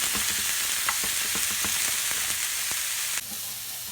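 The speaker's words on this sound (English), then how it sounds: "the fennel is still in the process of getting softened and browned" Fennel seasoned with garlic, salt, pepper and olive oil fries in a pan with a steady, close sizzle and a few soft clicks of stirring. The sizzle drops slightly near the end.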